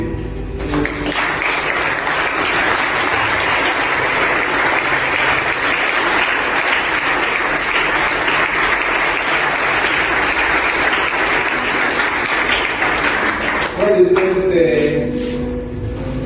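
A church congregation applauds loudly and steadily to acclaim the word of God, a dense wash of clapping lasting about thirteen seconds before it stops abruptly and a low voice or music takes over.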